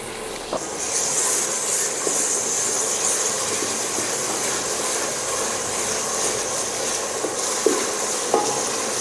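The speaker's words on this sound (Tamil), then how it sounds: "இஞ்சி பூண்டு பேஸ்ட்டையும் இந்த டைம் சேர்த்துடலாம் அதோட பச்சை வாசம் போகிற வரையும் வதக்கிடலாம்" Ginger garlic paste sautéing in a pan for chicken biryani, with a steady broadband sizzle throughout and a few faint scraping stirs, close and fairly loud with no talking.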